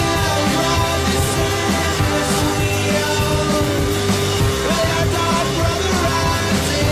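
A dense, loud band mix with fuzzy, saturated distortion smeared across every instrument, steady and wall-like throughout.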